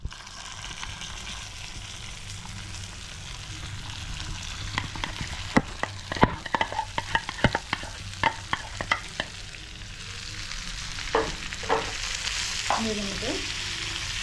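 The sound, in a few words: okra frying and being stirred in a pan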